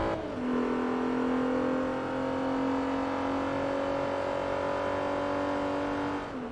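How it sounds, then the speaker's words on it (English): A Subaru Legacy rally car engine in the video game Forza Motorsport 3 roars steadily at high revs, holding a loud sustained drone that fades slightly toward the end, with no talking. "That Subaru Legacy does sound very nice, though."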